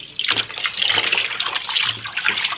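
Water runs and splashes over raw chicken being washed, a close, continuous trickling and gushing with uneven bursts and no talking.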